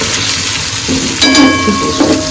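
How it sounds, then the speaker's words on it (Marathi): Onion and mushrooms fry on a tawa with a continuous close sizzle, and a brief clatter of a utensil breaks in partway through. "मला ह्याच्यात कांदा टाकला काही मशरूम पण पडलेत त्याच्यात टाकू"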